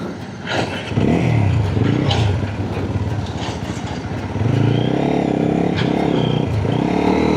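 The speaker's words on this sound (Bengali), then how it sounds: "ঠেলে ঠেলে বাইক স্টার্ট দেয় হেভি কষ্টর কাজ" A Taro GP 250R FI motorcycle engine, push-started, sputters to life and revs loudly and close, its rumble rising and falling in uneven bursts.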